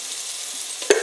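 A pan of tomato and drumstick curry with chilli powder and salt is stirred over a steady low sizzle, and a single sharp spoon scrape lands near the end.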